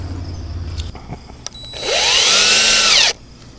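A power drill drives screws into wood framing for a chicken tractor: a few short bursts and clicks, then one sustained whirring run of about a second and a half that rises in pitch before stopping, loud and close.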